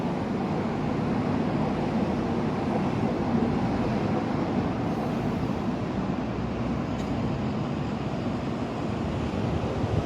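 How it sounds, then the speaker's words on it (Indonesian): A train passes by a house in a steady, loud rumble. The roar is broad and continuous, holding evenly for the whole stretch with no voices. "Ada kereta lewat."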